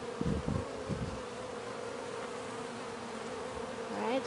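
Honeybees hum in a steady drone from an opened split hive during an inspection, close and continuous, with a few sharper buzzes from bees flying near at the start.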